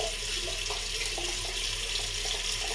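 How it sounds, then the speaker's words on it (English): A tap runs steadily into a sink while someone washes their face. The water gives a continuous, close hiss, with faint splashes and hand movements under it and no voices. "to wash your face and have it nice and clean"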